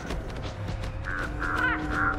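Several crows caw in a short run of harsh calls that grow more frequent toward the end, heard at moderate distance over a steady low rumble.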